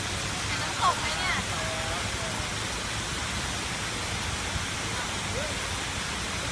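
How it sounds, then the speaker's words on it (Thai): Mae Ramoeng waterfall roars as a steady, dense wash of rushing water, continuous and fairly loud throughout, with a brief faint chirp near the start. "เห็นน้ำตกไหมเนี่ยเห็นน้ำตกไหมเนี่ย"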